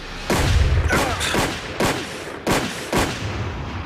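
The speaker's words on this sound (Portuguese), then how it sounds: "Não um tiro, não 2, não 3 tiros." Eight loud gunshots ring out in quick succession, sharp blasts spaced roughly half a second apart, echoing with no talking.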